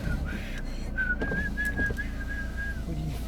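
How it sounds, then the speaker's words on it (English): A man whistles a single long, steady tune outdoors, one sustained note that wavers slightly, heard clearly over a faint background hum for most of the moment. "This guy whistling."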